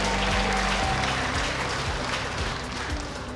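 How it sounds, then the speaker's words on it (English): A large audience at a Lagos government event for newly trained artisans and entrepreneurs applauds steadily and loudly throughout, a dense wash of clapping with some low hum and music-like tones underneath. "I think you all deserve a round of applause."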